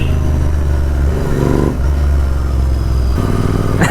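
A Royal Enfield Interceptor 650 twin revs up close and loud, the engine note climbing and dropping in surges over a continuous rumble, with no talking.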